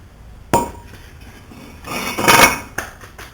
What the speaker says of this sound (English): The brake rotor should slide right off.